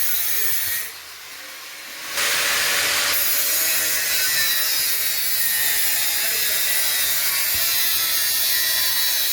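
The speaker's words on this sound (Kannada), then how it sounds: "ಈ ಥರ ಕಟ್ಟಿಂಗ್ ಮಾಡೋ ಬ್ಲೇಡ್ ಬೇರೆದು ಹಾಕೋಬೇಕು. ಆ ಬ್ಲೇಡ್ ಹಾಕೊಂಡು ಕಟ್ ಮಾಡಬೇಕು." A cutting blade works through an electrical wiring box during house wiring, a rough, steady rasping grind that drops out briefly near the start and then runs on loud and close with no voices.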